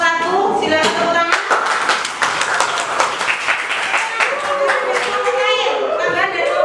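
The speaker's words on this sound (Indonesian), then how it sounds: "Ini penampilan dari kelompok 1, silakan tepuk tangan." Students in a junior high school classroom in Papar clap for a group's presentation, a burst of scattered hand claps mixed with lively voices and cheering throughout.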